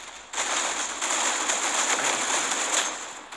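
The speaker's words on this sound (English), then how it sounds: "we're gonna throw a flashbang" A flashbang grenade goes off in the video game Critical Ops, a loud hissing burst of noise with a steady high ringing tone running through it for about three seconds.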